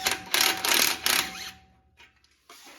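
Two 14mm bolts come off a Toyota Tundra transmission assembly under a power tool, heard as loud rapid bursts of impact rattling, then quieter intermittent clicks and a final short whir, close up.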